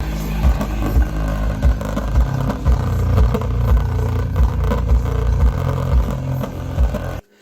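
A subwoofer with a damaged coil plays at about half volume, pounding out loud, deep pulses in a repeating rhythm with a harsh rattle buzzing through each hit, then cutting off abruptly at the end.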